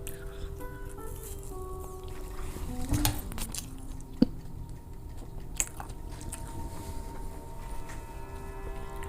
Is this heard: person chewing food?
yes